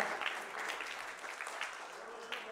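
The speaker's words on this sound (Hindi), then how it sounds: "Let's give applause, ladies and gentlemen" Audience applause at a film poster launch with the cast and crew, a steady rustling wash of clapping heard fairly faint and distant.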